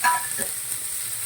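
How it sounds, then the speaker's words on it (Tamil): Chopped onions frying in a pan for a drumstick-leaves egg fry, a brief steady hiss of oil with a light knock at the start. "வெங்காயம் போட்ட உடனே சால்ட்டு போடுறேன் ஏன்னா சீக்கிரம் வதங்கிடும்"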